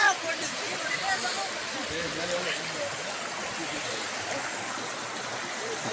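Water from a mountain rushes steadily down over rocks nearby, a continuous, even hiss of flowing stream with no pauses.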